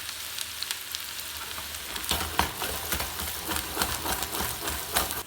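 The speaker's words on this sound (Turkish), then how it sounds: "2 adet soğanı da ocağımıza ekliyoruz." Two onions frying in half a glass of oil in a pan, a dense close crackling sizzle with a run of sharper spits and pops building after the first couple of seconds.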